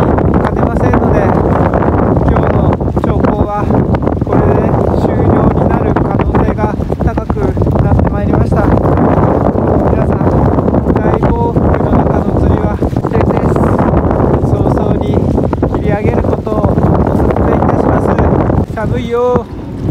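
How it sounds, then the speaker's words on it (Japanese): Strong gale-force wind of over ten metres per second buffeting a microphone on a seaside breakwater at Wakasu, Tokyo, a loud continuous roar with gusting rumble throughout, a faint bell ringing now and then. "現在若洲は10メートル以上の大暴風が吹いております"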